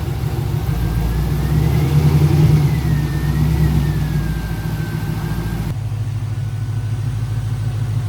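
A Pontiac GTO project car's engine revs loud and close as the car backs out, a rough steady roar swelling then settling, with a rising whine over it before the sound abruptly drops to a lower rumble.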